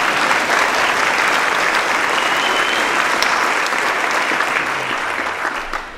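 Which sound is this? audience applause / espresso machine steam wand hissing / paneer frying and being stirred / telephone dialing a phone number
audience applause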